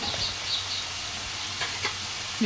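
Coriander powder stirred into a seeme badanekayi palya frying in a pan: a steady, close sizzle with a few light scrapes and stirring taps, and no voices.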